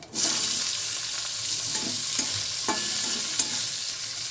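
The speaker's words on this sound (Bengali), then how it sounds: "মাছ ভাজে তেলে দিয়ে দিচ্ছি পাঁচ ফোড়ন দেবো হচ্ছে একটা পেঁয়াজ কুচি" Panch phoron and chopped onion fry in oil left from frying a hilsa fish head, a strong continuous sizzle with occasional crackles and stirring scrapes, close and steady throughout.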